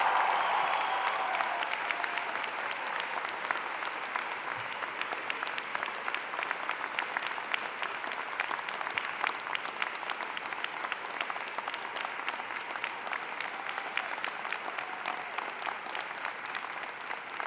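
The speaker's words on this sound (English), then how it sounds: "join me in applauding the amazing graduating class of Spring" A large audience at a university graduation convocation applauds steadily throughout, a dense, loud wash of clapping filling the hall without pause or speech.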